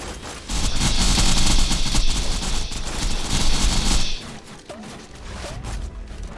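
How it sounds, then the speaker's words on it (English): Rapid gunfire and impact noise in Borderlands 2 as the player's character, Maya, takes repeated hits, dense and loud for about four seconds before easing into quieter game sounds with small chirps. "Getting shot a lot here."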